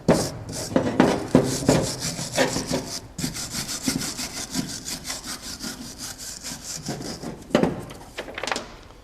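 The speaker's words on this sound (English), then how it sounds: "Just using a wire brush to get rid most of all the dust in the scale." A wire brush scrubs dust and rust scale off the rear brake pad carrier of a Jaguar XF, giving loud, close, rhythmic rasping strokes back and forth, briefly pausing and resuming.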